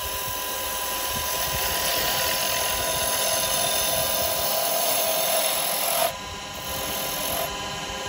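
Spindle gouge cutting wood on a lathe while turning a duck egg cup, a continuous close whirring shear with steady tonal hum, easing briefly near the end.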